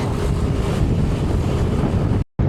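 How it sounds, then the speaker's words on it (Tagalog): Strong wind roars continuously into the microphone at Marilaki, Rizal, a loud broadband buffeting with a brief dropout near the end. "Malakas ang hangin."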